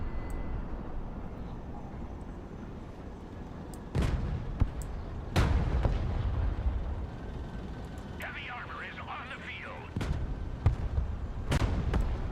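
Units in the modern-warfare strategy game Broken Arrow firing kinetic rounds while moving, several sharp, isolated cannon reports spaced seconds apart over a low rumble, with someone talking throughout.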